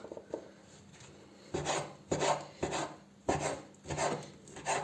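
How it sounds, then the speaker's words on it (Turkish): A knife saws through slightly stale bread on a wooden board in a home kitchen, in a series of close, rasping strokes with brief pauses between cuts. "Doğramaya devam ediyorum."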